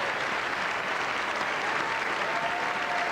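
Sustained applause fills the chamber at a State of the Union address, a thick, even wash of many hands clapping heard from a distance, continuous and unvarying, with no voices on top.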